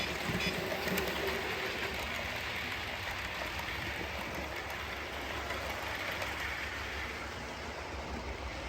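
A model train rumbles steadily along its track with a faint clicking rattle, continuous and quiet throughout.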